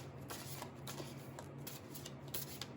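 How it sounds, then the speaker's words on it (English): Soft, steady riffling of tarot cards being shuffled by hand, quiet and close, with a brisk repeating rhythm and no talking. "So let me shuffle the cards first"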